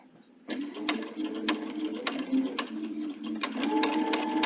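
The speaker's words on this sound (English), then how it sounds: "we're all set up now to stitch this center seam" A sewing machine runs steadily while stitching the center seam of a quilt section, close and mechanical, with a regular rapid clatter of the needle and a brief stop before the stitching resumes.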